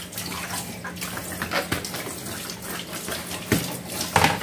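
Water poured from a container into a cooking pot in a home kitchen, a steady splashing pour with a few louder sloshes near the end, close by and alone without talk.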